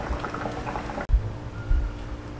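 Beans bubble in a pot on the stove, a steady soft simmering fizz with small pops, then a brief clunk as the heat is switched off and the liquid keeps gently bubbling.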